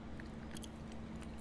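Crunchy biting and chewing as a character eats a can of sprats in the video game Escape from Tarkov, a brief faint munching over a steady background hum.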